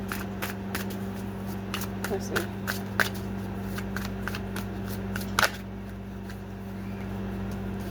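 Soft tarot card shuffling with quick riffling bursts and a few sharp snaps, close by over a steady electrical hum, with a brief spoken remark.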